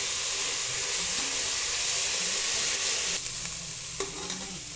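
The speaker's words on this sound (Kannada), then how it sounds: "ಇನ್ನೊಂದು ಸ್ವಲ್ಪ ಫ್ರೈ ಆಗಲಿ, ಸ್ವಲ್ಪ ಲೈಟ್ ಕಲರ್ ಬಂದಿದೆ" Onions and tomato-based masala for chicken korma fry in a pan with a steady, close hiss of sizzling oil, broken by a few stirring scrapes, without speech.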